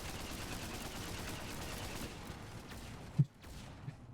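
Steady video game gunfire laid down as cover fire rattles on as a dense, continuous wash, with one sharper report near the end before it briefly cuts out.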